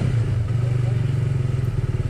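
A Benelli TRK 251 motorcycle is ridden, its engine giving a steady low throbbing drone with a rapid pulsing beat and some rattling, close and loud throughout.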